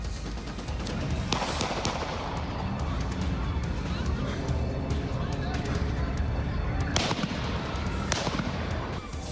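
Rapid bursts of gunfire crackle over the commotion of a crowd at a college community vigil, with louder sharp reports standing out amid continuous noise.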